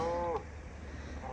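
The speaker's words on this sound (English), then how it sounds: "You can probably hear the cow in the background." A cow moos in the background on a rural morning walk, one drawn-out low call at the start that fades quickly, leaving a quiet outdoor hush.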